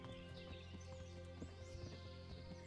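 Hooves of a horse clip-clop in the medieval video game Kingdom Come Deliverance, quick soft footfalls under a dense, steady game soundscape with faint chirping birds.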